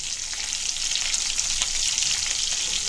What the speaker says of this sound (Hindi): अभी मिर्ची और करी पत्ता डालेंगे